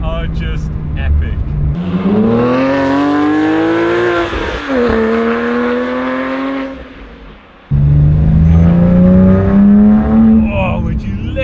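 A powerful Porsche 997.2 GT3 engine revs hard while driving and climbs in pitch, drops off briefly, then roars back up again, loud and close throughout.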